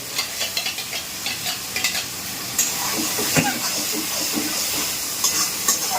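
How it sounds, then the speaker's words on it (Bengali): Spices and chicken stir-fried in a hot pan, a steady close sizzle and hiss with repeated scraping and stirring clatters of a spatula against the pan. "এবার এটাকে মশলাটাকে সুন্দর করে কষাবো"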